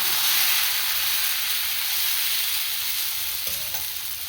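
Millet dosa batter spread on a hot pan sizzles with a steady, close, bright hiss and faint crackle, no voices.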